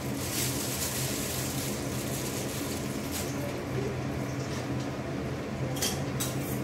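Fried rice ingredients stirred in a pan with ghee and white oil, giving a loud, steady sizzle that runs the whole time with faint scraping and occasional clinks, and no one speaking.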